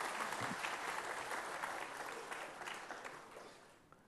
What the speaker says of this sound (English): please give the team a big round of applause